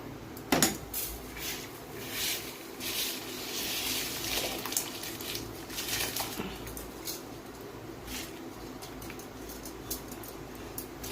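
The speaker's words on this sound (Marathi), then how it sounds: "पाण्याला उकळी आली मी आता इथे तांदूळ भरते" Washed rice for chicken dum biryani is tipped into a pot of boiling water, with a sharp metallic clink at the start followed by soft, steady bubbling and faint clatter.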